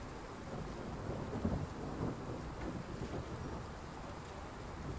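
A thunderstorm in Train Sim World 3 at a station on the Ruhr route toward Hagen: a faint, distant rumble of thunder rolls under a low, steady wash of rain and wind, with no voices.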